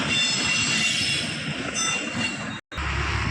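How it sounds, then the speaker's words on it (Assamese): A train rolls past near a railway bridge by Tinsukia: a loud, steady rumble of wheels on rails with a high, sustained wheel squeal, close by and continuous, with no voices. "এইখন ট্ৰেইন আহি আছে গাড়ী।"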